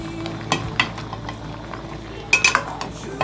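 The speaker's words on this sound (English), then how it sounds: "Now I am stirring it." A spoon stirs green pepper and spices, including Maggi seasoning, in a pot of okra soup. A few scraping strokes land early, then a quick cluster of metallic clinks against the pot follows, close and fairly loud.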